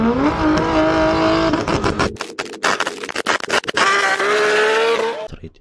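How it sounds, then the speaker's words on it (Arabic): A turbocharged car engine running an anti-lag system with delayed ignition roars loudly, then breaks into a rapid stutter of sharp pops and bangs before surging back to a steady drone. "وهذا يسمونه نظام انتلاق بتأخير الإشعال وراح يظل مستمر بالشغل ومنتظرك بس تدوس"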